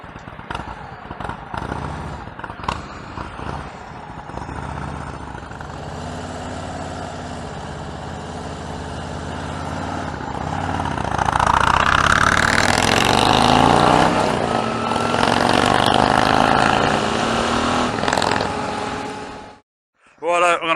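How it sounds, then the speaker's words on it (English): Harley-Davidson Road King with a 96 cubic-inch Stage 2 engine and pork chop air filter, ridden without a clutch lever, rumbling steadily, then building to a loud, sustained roar as it pulls away before cutting off near the end. "I'm going to attempt to ride this Harley Davidson Road King 96 Cube Stage 2 kit, pork chop air filter, but no clutch lever"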